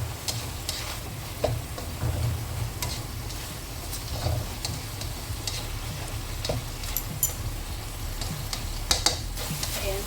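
Tomatoes and salt frying in a pan with egg to follow, a steady close sizzle with occasional clinks and scrapes of a utensil stirring, no talking.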